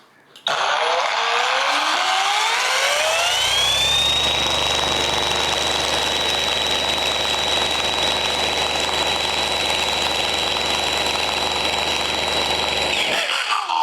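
A cordless car polisher spins up over a few seconds, then runs steady and loud at speed 6 with a sustained high whine and low motor hum, stopping abruptly near the end.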